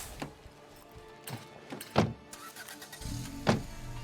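Car sounds in a survival video game set in a heartland world: a vehicle hum starting partway through, with a few short mechanical clunks like doors or windows, fairly quiet overall.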